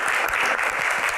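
A studio audience at a Q&A show breaks into brisk, continuous clapping, a dense even roar of many hands close by without speech over it.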